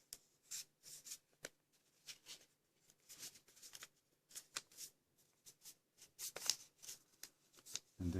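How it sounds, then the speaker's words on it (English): Paper being folded and creased by hand while making an origami Saurolophus, with soft crisp rustles and rubs arriving in short irregular bursts, close and quiet, with no talking. "We're going to fold this, which was a valley fold, into a mounting fold."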